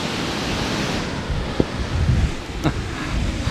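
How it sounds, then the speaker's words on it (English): Ocean waves rolling onto a beach, a broad steady wash of surf with wind buffeting the microphone, rising and swelling slightly midway, no talk. "by the sound you can tell there are quite a lot of waves"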